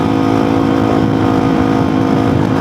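A supermoto motorcycle engine holds a loud, steady rev close by while the rider performs a stand-up wheelie, the droning note staying constant for the whole moment.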